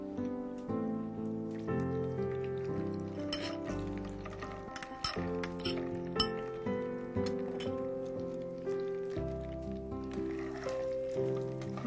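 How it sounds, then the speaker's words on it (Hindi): Makhana (fox nuts) frying in hot ghee, a soft patter of crackling and sizzling with light clinks of a utensil against the pan, fairly quiet and close. "मखाने बहुत अच्छी तरह से फ्राई करने हैं और ये थोड़ा टाइम लेते हैं फ्राई होने में"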